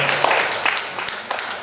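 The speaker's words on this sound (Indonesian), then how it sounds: "Kita tepuk tangan untuk" Applause from the congregation at a thanksgiving Mass for a couple's 25th wedding anniversary, a brief spread of light clapping with faint voices underneath.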